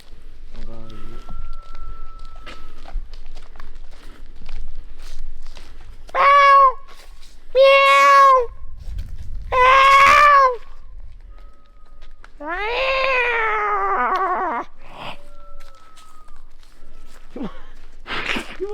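A cat meows several times, drawn-out and fairly loud, with a longer wavering yowl near the middle and quieter shuffling noises between the calls.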